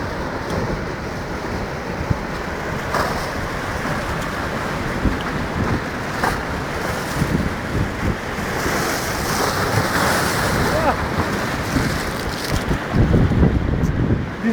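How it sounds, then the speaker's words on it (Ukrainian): Rough Mediterranean sea at Alexandria, Egypt, with waves surging and crashing continuously under strong wind buffeting the microphone, loud and close throughout. "Безумное море, да?"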